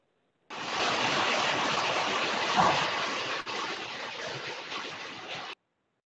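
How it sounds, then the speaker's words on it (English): A river running in the background of a meeting participant's connection, a steady broadband rushing wash of flowing water that sets in abruptly and holds evenly for several seconds before cutting off, with no talking. "River in the background? Is that the river?"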